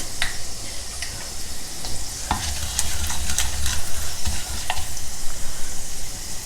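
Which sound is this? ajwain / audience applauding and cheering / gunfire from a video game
ajwain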